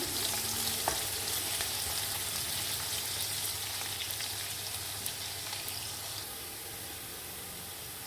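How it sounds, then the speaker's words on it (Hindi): Sliced onions fry in hot oil in a pan for rice pulao, giving a steady, even sizzle throughout with a few faint clicks and no talking. "पैन में मैंने ऑयल डाला था, वो गर्म हो गया तो मैंने उसके अंदर जो स्लाइस किए हुए प्याज डाल दिए।"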